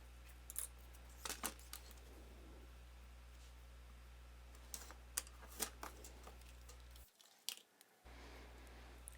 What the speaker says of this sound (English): next I'm going to trim down all of my strips of paper